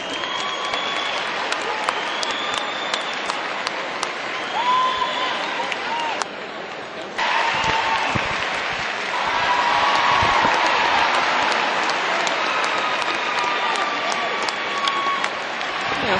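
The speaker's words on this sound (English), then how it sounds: "You'll hear people yelling and clapping again." Spectators at the Westminster dog show clapping and yelling as the toy group enters the ring, a continuous roar of applause and cheers in a large hall, with scattered whistles and calls and a brief dip midway.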